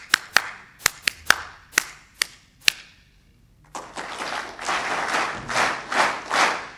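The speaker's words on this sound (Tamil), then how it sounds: "நான் சொல்கிற மாதிரி கையை தட்டணும்" An audience claps: a handful of sharp, separate hand claps spaced out, a short pause, then a fuller wash of crowd applause that rises and swells in waves.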